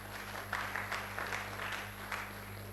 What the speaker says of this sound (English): A round of applause for the Provost.